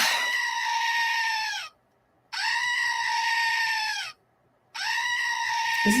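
A goat bleating loudly up close: three long, drawn-out, wavering cries separated by short silent pauses.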